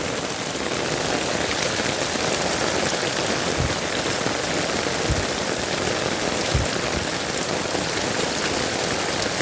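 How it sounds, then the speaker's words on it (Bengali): Heavy rain pours steadily over a flooded street with knee-deep water, a dense, loud, unbroken hiss of drops with a few low thumps, and no voices. "হাঁটুর থেকে একটু নিচেই পানির পরিমাণ, কিন্তু বৃষ্টির গতি অনেক বেশি"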